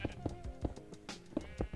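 Repeated short sheep bleats from Minecraft, roughly half a dozen calls in under two seconds, close and fairly quiet, with no talking over them.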